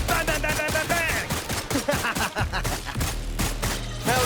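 Gunfire in the Wuthering Waves video game, quick rhythmic bursts of shots layered over loud music and combat effects, close and dense for the whole few seconds.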